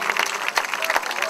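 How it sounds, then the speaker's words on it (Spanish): A church congregation claps together, a brief, dense burst of applause with crowd murmur mixed in. "Démosle un aplauso a Jesucristo."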